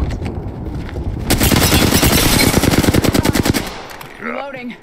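Automatic weapon fire in the Apex Legends video game, a loud sustained burst of rapid shots lasting a couple of seconds, followed by quieter game sounds.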